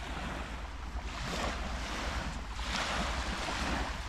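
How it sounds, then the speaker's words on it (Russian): Waves washing onto the seashore of a bay at Frombork, with a continuous surf wash and low wind rumble that swells in two broad surges. "Вот мы и на взморье."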